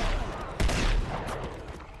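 Gunfire in Uncharted 2: Among Thieves crackles as a dense volley of shots, with one sharper, louder burst near the middle amid a steady wash of battle noise.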